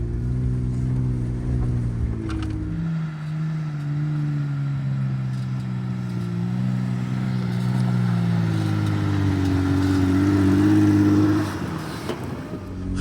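A car engine near at hand drops from a steady hum, then pulls upward in pitch and loudness as the driver presses the gas, easing off near the end. No speech is heard.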